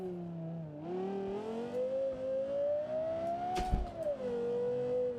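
In BeamNG, a car engine is held at steady revs, its tone climbing slowly and then easing back down, with a brief clunk partway through. No voices are heard.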